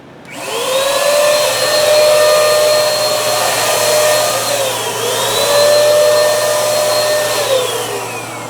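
Pretreatment sprayed onto a light polyester garment for DTG printing: a loud, continuous motorized whine and hiss that shifts pitch slightly as spraying goes on, with no talking.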